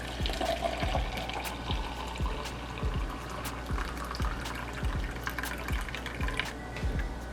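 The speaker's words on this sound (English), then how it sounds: "And pour it into my drinking cup." A homemade weight-loss drink is poured from a measuring cup into a drinking cup, a close steady stream of liquid with dribbles and drips, accompanied by recurring soft low thuds and no speech.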